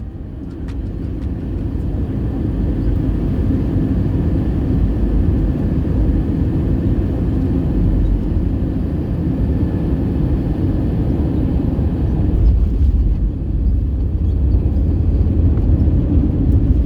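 A Lufthansa Boeing 747-8 on its landing approach into Frankfurt fills the cabin with a loud, steady low engine and airflow roar that holds evenly throughout.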